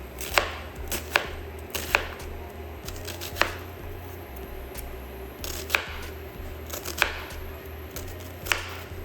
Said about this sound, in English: That's why I'm chopping up so much.